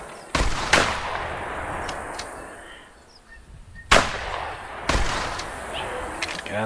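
Hunting rifle shots in theHunter Classic during a Canada goose hunt in Hirschfelden, several loud sharp reports with long rolling echoes, spaced a few seconds apart, alone without talk.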